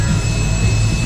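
Airplane flying overhead while out on a boat crabbing on a trotline near Ocean City, Maryland: a loud, steady, unbroken roar filling the whole moment.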